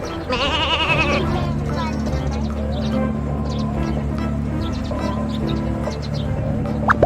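Sheep bleat with a wavering cry at a petting farm in Cha-am, Phetchaburi, Thailand, loudest near the start, while people talk and birds chirp faintly in the background.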